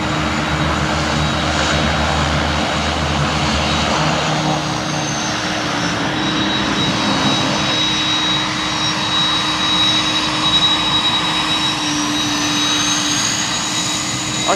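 Airbus A300 freighter jet engines during cargo operations at East Midlands Airport, a loud, steady roar with a faint high whine that holds for the whole stretch, with no voices.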